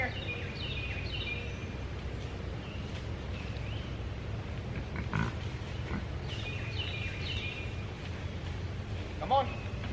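Berkshire pigs grunt softly and sporadically in the woods while a person keeps calling to them, with rustling and faint outdoor ambience throughout.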